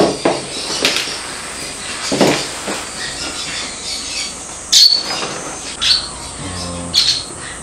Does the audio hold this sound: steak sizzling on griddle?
no